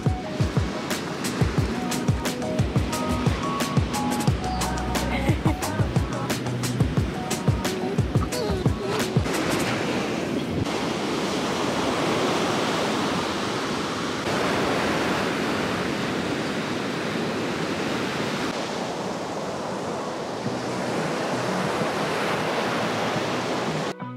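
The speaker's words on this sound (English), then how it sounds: "This wind." Steady wind roars at a beach, a loud broadband rush that continues throughout, with rattling and flapping noises over the first ten seconds before the gusting settles into an even hiss.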